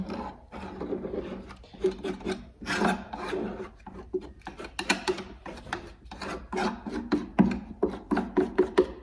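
A knife scrapes and rubs glue under lifted veneer on a mahogany corner cabinet, making close, repeated rasping strokes in an uneven rhythm with no talking.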